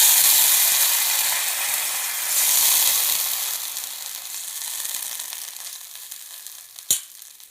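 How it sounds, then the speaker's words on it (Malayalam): Golden-brown fried onions are poured into a coconut-based Kerala mackerel fish curry with a loud, hissing sizzle. The sizzle is strongest at first, fades gradually, and ends with a single sharp clink near the end. "ഉള്ളി കറിയിലേക്ക് ഒഴിച്ചു കൊടുക്കാം"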